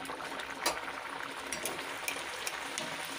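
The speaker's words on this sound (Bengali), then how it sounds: "এখন একটা কচুরি নিয়ে তেলের মধ্যে ছেড়ে দিলাম।" A pea-stuffed kachori frying in hot oil in a pan, giving a soft, steady bubbling sizzle with scattered small crackles and pops, fairly quiet and continuous, with no voices.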